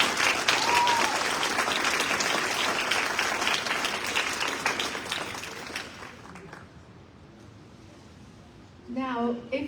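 Audience applause at a top teacher awards ceremony, steady and full for about six seconds before thinning out and fading, with a voice starting to speak near the end.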